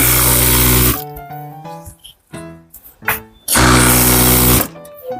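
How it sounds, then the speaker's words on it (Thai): A sewing machine stitches curtain tape onto slippery, shiny fabric in short bursts of whirring motor and rapid needle clatter, with brief stops in between, close and loud. "เวลาเราเหยียบจักรแล้วผ้ามันดันออกไปเราก็ช่วยดึงหน่อยนึงนะคะ"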